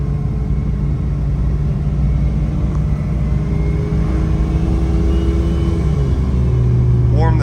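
Jeep Cherokee XJ with around 300,000 miles and a turbo, driving on a salted winter road, giving a steady loud engine and road rumble that runs throughout, with some faint talk over it.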